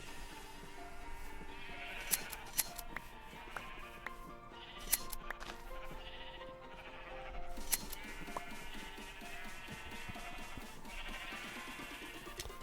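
Blocky sheep in Minecraft bleat several times, in short nasal calls scattered over the game's steady background ambience, with no talking.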